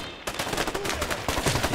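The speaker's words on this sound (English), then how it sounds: "I'm shooting him. It's too far away." Rapid gunfire from A Way Out, the co-op prison-escape video game, a dense burst of repeated shots beginning after a short quiet start and continuing steadily at close, fairly loud level.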